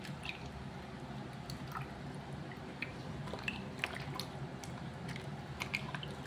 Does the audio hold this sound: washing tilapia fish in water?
yes